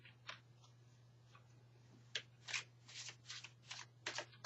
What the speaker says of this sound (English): And as I'm shuffling these